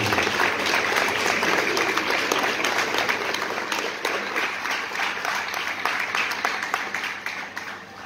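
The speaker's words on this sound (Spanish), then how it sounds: "Un aplauso a Jesús, gracias" Sustained applause from a large congregation at a Christian deliverance and spiritual warfare congress, dense and steady for the full stretch and easing slightly toward the end.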